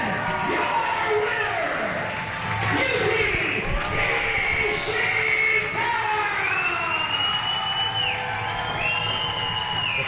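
Wrestling crowd at a Battle Arts match cheering, whistling and applauding after the bell, a loud continuous arena roar with piercing whistles.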